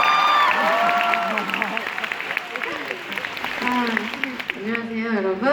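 Applause and cheering from a concert crowd at a singer's show with a guest, steady clapping throughout, while voices and sung or shouted tones rise over the crowd.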